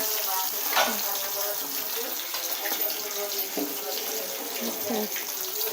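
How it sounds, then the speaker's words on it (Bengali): Small puti fish sizzling in hot oil in a wok, a steady loud rushing hiss with light crackles throughout, with no talking. "মাছ ভাজা হচ্ছে"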